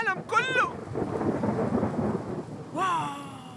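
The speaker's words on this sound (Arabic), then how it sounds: "واو، السماء تمطر." Rain pours steadily with a low thunder rumble in an animated scene. Brief high, swooping voice-like tones come at the start and again near the end.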